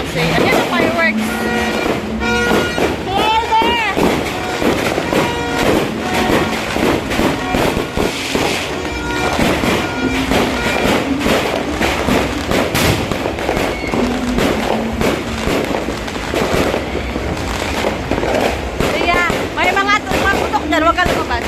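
Dense New Year fireworks bursting continuously at near and middle distance, sharp crackling pops and booms layered over rain and wind noise, with a voice talking over the din.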